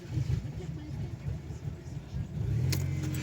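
A Mercedes C180 Kompressor, just repaired after an in-tank fuel pump failure caused by a cut wire, cranks and catches into a low rumbling idle near the end, with a voice speaking over the engine.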